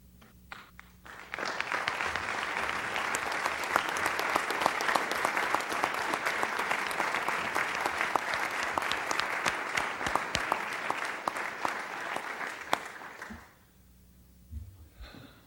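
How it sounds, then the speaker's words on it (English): Sustained audience applause at a city council meeting in Schertz, Texas, honoring fire, EMS and 911 first responders; dense, steady clapping swells in after a quiet moment, holds loudly for about eleven seconds, then fades to near silence. "would you please stand and give these people a round of applause?"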